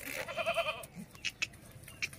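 Castrated male goats offered for Qurbani sacrifice bleat nearby, one drawn-out wavering cry followed by a few shorter calls.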